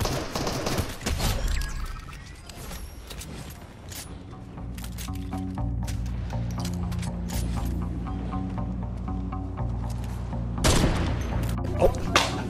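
Gunfire in Fortnite crackles in rapid bursts of sharp shots, loud and close, with a heavier volley near the end and a voice talking intermittently underneath.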